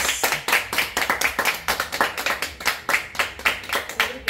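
Rhythmic group clapping for anonymous gift senders during a surprise gift-opening show, bursts of claps coming in a fast, regular pulse, close and fairly loud with no talking.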